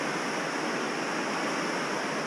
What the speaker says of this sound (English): There's 3 separate waterfalls coming down out of here